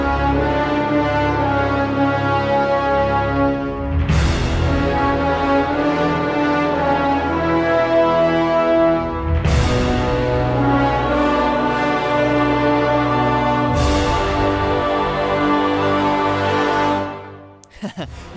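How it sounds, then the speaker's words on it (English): The Oryx Fanfare from the Destiny: The Taken King game score, a short brassy orchestral motif heard three times, each entry opening with a bright swell that sustains and fades before the next. "I'll be calling it the Oryx Fanfare"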